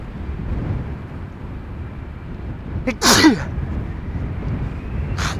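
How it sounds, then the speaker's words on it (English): A single sharp sneeze bursts out midway, close and loud, against a steady background rush of wind and distant noise at Amsterdam Schiphol Airport. "hopefully it's going to be a one-off sneeze and not the beginning of a whole series"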